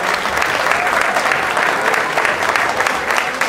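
A large audience at a combined percussion ensemble event gives a round of applause, steady and loud throughout, a dense wash of clapping hands with no speech over it.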